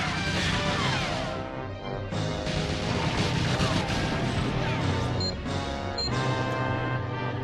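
Glass smashing in GoldenEye 007 during a fast speedrun of the Aztec level, loud crashes and breaking impacts over a dense game soundtrack, with a sharper shatter burst near the end.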